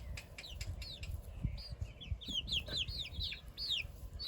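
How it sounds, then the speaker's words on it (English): Eight-week-old chickens cluck and chirp in a coop, giving a run of close, rising peeps and short calls over a low background rumble. "Look at those beautiful chickens"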